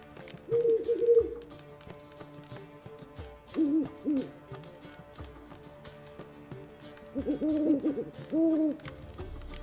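Owl hooting in the video game The Witcher 3, three separate bouts of soft low hoots spread across the stretch, each a short cluster of two or three calls, over quiet game ambience with light tapping sounds.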